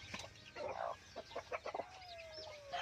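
A hen clucks softly among her chicks in a backyard flock, giving a quick string of short, close clucks with a thin peep trailing at the end.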